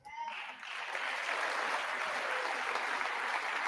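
A crowd at a State of the Union address breaks into sustained applause that swells quickly and holds steady as a dense, loud wash.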